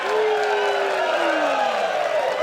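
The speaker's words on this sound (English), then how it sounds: "You're waiting for the applause, really." Crowd applause and cheering at a professional disc golf tournament after a long made putt, a broad steady wash of clapping held at an even level throughout, with a sustained tone running beneath it.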